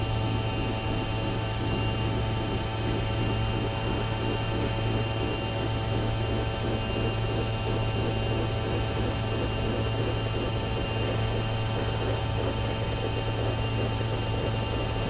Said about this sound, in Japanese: 音がすごいな、なんかタイヤの。